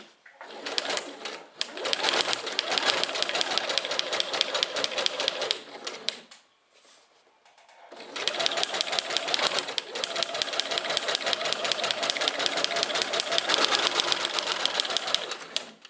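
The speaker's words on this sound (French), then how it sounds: "Et je vais commencer à coudre. Je baisse l'aiguille dans un premier temps. Et je continue avec la pédale." A sewing machine stitches fabric under foot-pedal control, its needle hammering in a fast steady rhythm for long stretches, pausing briefly in the middle before running again, close and loud.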